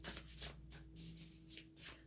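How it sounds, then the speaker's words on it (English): Cards being shuffled close up, a steady papery riffling and rubbing with soft bursts, no talking. "the shuffling of the cards is louder than my voice"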